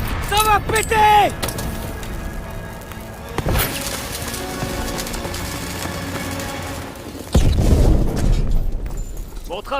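Shouting voices over World War II battle noise in Call of Duty: WWII, then a sharp blast and later a deep rumbling boom of a cannon being destroyed, loud and close.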